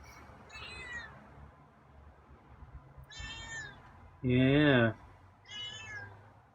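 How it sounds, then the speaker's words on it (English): A feral cat meows several times at a feeding spot, short harmonic cries with one loud, long drawn-out meow near the end, while a person speaks a brief word amid low background hum. "You're meowing now too, huh?"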